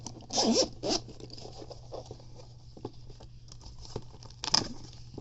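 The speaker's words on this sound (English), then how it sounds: "And let's zip it open." The zipper on a Hyperkin Spiritbox limited-edition controller carrying case is pulled open: two quick close rasping zip strokes, a quiet pause with faint handling, then another short zip near the end.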